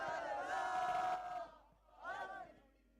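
Large crowd at a Valorant esports grand final shouting a chant in unison, a long sustained roar followed by a shorter second burst, somewhat distant and reverberant.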